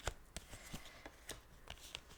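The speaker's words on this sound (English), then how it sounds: "let me just lay out the cards" Large tarot cards being laid out on a table, a series of soft slaps and papery flicks spaced irregularly, close and fairly quiet with no talking.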